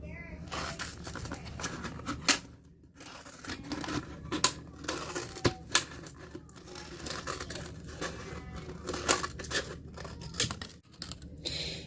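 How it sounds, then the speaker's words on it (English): Close crinkling and snapping as scissors cut the top off a plastic bottle, with uneven cutting and tearing sounds, scattered bursts coming in irregular spurts over several seconds. "And then you just stick your scissors in and cut it off."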